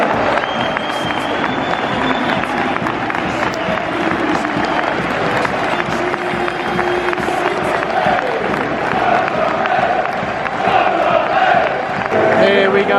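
A large football crowd at Coventry City versus Norwich roars continuously, with chanting, cheering and clapping blending into a loud, dense wall of sound that swells toward the end.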